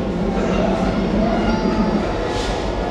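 A train stands at Shibchar railway station in Bangladesh on the Dhaka–Faridpur line over the Padma Bridge, giving off a steady, close, low rumble that holds evenly throughout with faint clatter above it.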